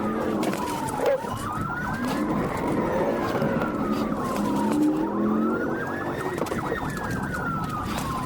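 A police car siren wails in long rising and falling sweeps during a high-speed pursuit, over steady road and engine roar, loud and continuous throughout.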